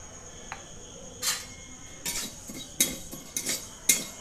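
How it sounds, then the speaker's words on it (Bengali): Five-spice and mustard seeds fry in a wok for a raw mango pickle, with a metal spatula giving irregular clinks and scrapes against the pan over a low background hiss. "মশলাটাকে আমি হালকা করে ভেজে নিচ্ছি।"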